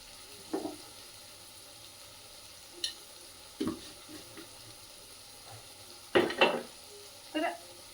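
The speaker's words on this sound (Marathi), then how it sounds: "आता याच्यातच मसाला भाजतोय तोपर्यंत मीठ टाकते" Masala spice paste frying in tempering oil in a pan for a rustic rajma (kidney bean) curry, with a low sizzle broken by several scraping stirs, the loudest bursts near the end.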